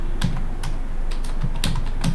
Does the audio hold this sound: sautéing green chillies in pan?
no